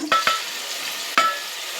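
Onion and curry leaves fry in a pan for a toor dal and greens sambar, with three quick spatula scrapes against the pan over a soft, quiet sizzle.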